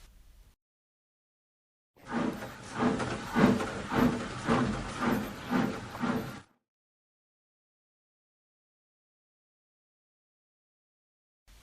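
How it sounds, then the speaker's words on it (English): A steam locomotive chuffs in a steady rhythm with hissing steam bursts for several seconds, then stops abruptly, leaving silence. "and he chuffed away."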